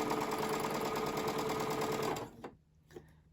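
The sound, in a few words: sewing machine stitching quilt block fabric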